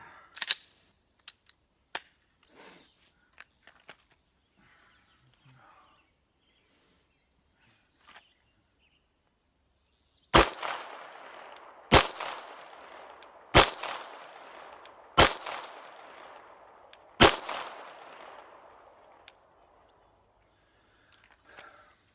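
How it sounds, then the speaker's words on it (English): A handgun fires five rounds at 4 yards on a range, five sharp loud cracks in an even cadence about 1.5 seconds apart, each with a brief ringing tail, after a quiet stretch of faint handling clicks. "So 5 rounds, 4 yards."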